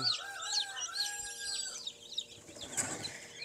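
Newly hatched Rhode Island Red chicks peep in a dense chorus of high, thin chirps, with some still breaking out of their shells. The peeping is close and continuous, and a soft rustle rises near the end.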